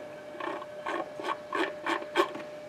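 A Thermolyne Mirak stirrer, model S72835, running at about 136 RPM, gives off a rhythmic mechanical whirring that pulses roughly twice a second over a faint steady tone, close and alone.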